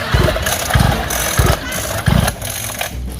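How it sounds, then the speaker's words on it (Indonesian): A motorcycle engine repeatedly cranks and sputters in rhythmic bursts as it fails to start, loud and close, with no voices. "Nggak nyala-nyala nih motor."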